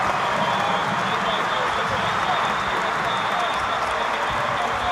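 A stadium crowd roars and applauds after a goal in an international friendly football match, a dense, continuous wall of cheering and clapping that holds at full volume throughout.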